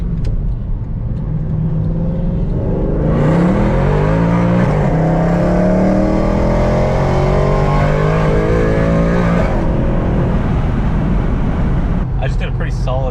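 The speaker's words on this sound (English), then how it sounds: "I just did a pretty solid third gear pull in this thing" Car accelerating hard in third gear with new injectors fitted, the engine note rising steadily and loud from inside the cabin, then easing off near the end, with a voice talking over it.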